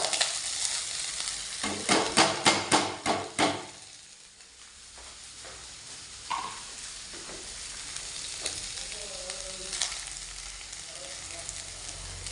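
Rice frying in ghee in a pot, with loud sizzling and a run of sharp stirring scrapes early on, then a quieter steady crackle broken by occasional clinks and stirs.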